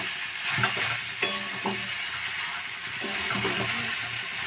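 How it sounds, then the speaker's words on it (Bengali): Drumstick flowers frying in a pan while being stirred, a steady close sizzle with repeated scraping strokes of the spatula and no talking. "এই যে নেড়ে নিচ্ছি ভালো করে"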